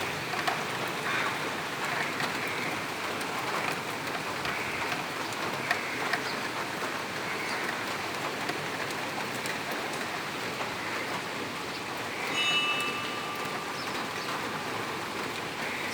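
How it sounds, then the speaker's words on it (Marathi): Heavy July rain falls in a steady, soft hiss with occasional faint chirps and small clicks, continuous and fairly distant, with no talking. "आज सुद्धा असा पाऊस पडतोय आमच्याकडे."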